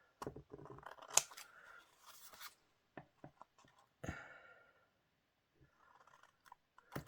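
Scissors snip close up through excess paper on an altered index card during papercrafting, several crisp cuts in quick bursts separated by short quiet pauses.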